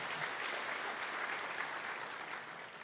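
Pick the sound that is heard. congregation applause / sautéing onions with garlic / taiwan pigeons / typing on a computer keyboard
congregation applause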